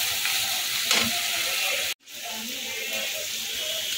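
Spices frying in a pan for rajma give a steady, close sizzle with a soft crackle, broken by a short pause midway before the hiss picks up again.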